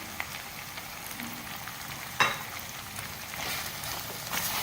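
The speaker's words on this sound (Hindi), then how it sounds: "अब आलू शामिल करके भी साथ थोड़ी देर 1 से 2 मिनट हम मीडियम फ्लेम पर भूनेंगे।" Potatoes and minced meat fry on a medium flame, a steady soft sizzle with one sharp clatter partway through and no voices.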